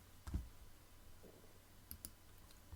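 Computer keyboard keystrokes for Cmd+V and Return on a Mac, a few faint, sparse clicks in a quiet room.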